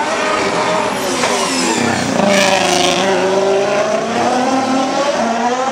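Formula 1 race car engines at the 2016 Singapore Grand Prix, a loud continuous high-pitched scream with rising and falling pitch from changing revs, steady throughout with no talk.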